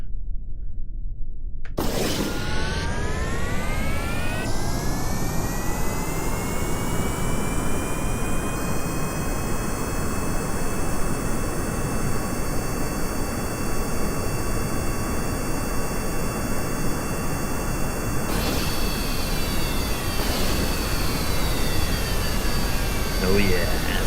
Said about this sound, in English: Oh yeah, full afterburner.